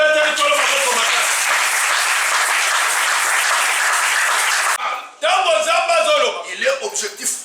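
A church congregation bursts into loud, sustained applause and cheering for the Lord, dense clapping filling the space for several seconds before briefly cutting off and resuming with raised voices.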